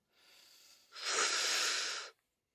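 A soft breath in, then a longer, louder airy exhale lasting about a second, close and alone, ending abruptly.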